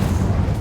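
Incendio fire spell cast in Hogwarts Legacy, a short, dense, low-pitched burst of game combat noise that sustains for under a second, loud and close with no talk over it.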